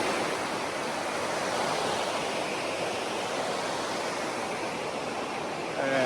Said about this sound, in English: Waterfall, right in the middle of Manhattan.